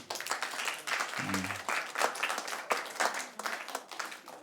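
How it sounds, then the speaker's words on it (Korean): A church congregation gives a round of applause during a worship service, with uneven clapping of moderate loudness and a short tonal sound partway through. "박수 한번 해줍시다"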